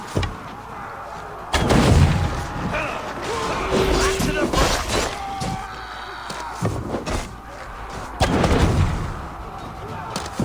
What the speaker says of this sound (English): An explosion could do it.